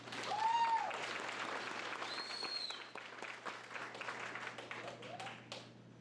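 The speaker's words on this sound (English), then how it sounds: "Can I get a big round of applause for Patty Watterson?" A rodeo audience at a California high school rodeo championships queen pageant claps steadily in a dense, sustained round of applause that holds for several seconds, with faint whistles and voices mixed in.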